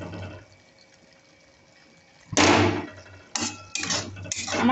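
A lid lifted off a pot of simmering mustard chicken, a quiet stretch then a sudden bright clatter and rush of bubbling, followed by a few more metallic clinks and sizzling bursts, close by.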